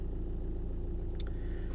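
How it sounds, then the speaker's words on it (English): A car engine idling roughly while the battery is giving trouble, a low steady rumble heard from inside the car, faint and continuous with no talk. "I apologise for the noise from the engine"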